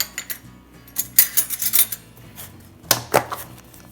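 Lid of a cocoa powder container pried open in a kitchen, close clattering plastic clicks and scrapes in two short bursts with no talking.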